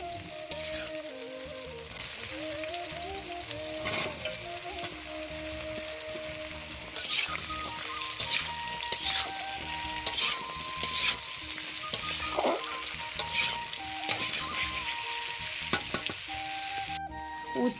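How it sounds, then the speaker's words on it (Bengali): Bitter gourd, potato, carrot and sweet potato fry in oil in a pan, a continuous close sizzle with repeated stirring clatter and scraping that grows busier, and no speech. "গাজর আর মিষ্টি আলুটা দিয়ে ভালো করে ভেজে নিয়েছি। তারপরে দেখো দিয়ে দিলাম উচ্ছেগুলো।"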